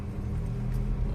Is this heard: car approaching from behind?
yes